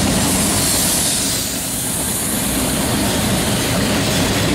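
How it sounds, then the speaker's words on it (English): A freight train hauling a string of recently retired locomotives rolls past at Ashland, Virginia, a loud, steady rumble and broadband wash of wheels on rail that holds nearly constant throughout, with no talking. "a funeral train of just recently retired locomotives"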